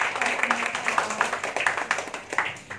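Guests at a Thai engagement procession ceremony clap in a moderate burst of close, crisp claps that keeps an even, overlapping rhythm all the way through.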